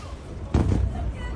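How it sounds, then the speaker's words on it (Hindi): A missile strike on an Israeli road during an Iranian attack, caught from a car's dashboard: one heavy, fairly close blast erupts after a half-second of background rumble, followed by a rolling, booming tail. "इन धमाकों की आवाज सुनिए"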